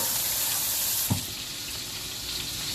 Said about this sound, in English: Give the pan a quick little rinse.